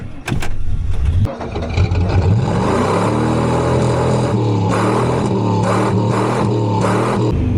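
An old 1996 Ford F-350 pickup with a 351W V8 starts with a few clunks after sitting, then runs loudly and steadily, revving as it drives, close and rough-sounding.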